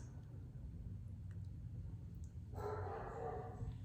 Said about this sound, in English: And there are my dogs barking.